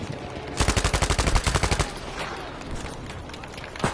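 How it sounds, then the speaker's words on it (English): A rapid burst of repeater pistol fire in Battlefield V: Pacific Theater, about fifteen loud, evenly spaced shots in just over a second, then a quieter stretch of game ambience. "Repeater pistol."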